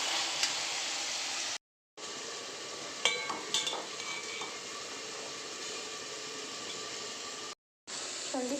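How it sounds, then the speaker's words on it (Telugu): Tomato and onion fry in oil in a pan, giving a steady broadband sizzling hiss with a few clinks of a utensil partway through, close and continuous apart from two brief cuts to silence. "టమాటా ఎర్రగడ్డ పెడతాం కొద్దిసేపు నూనెలో మక్కలిద్దాము"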